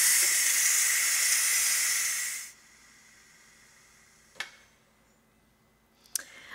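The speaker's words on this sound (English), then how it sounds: "now we can release the remaining pressure" Loud, steady steam hiss pours from a Ninja Foodi pressure cooker's pressure release for a couple of seconds, then stops abruptly, leaving quiet with two sharp clicks afterward.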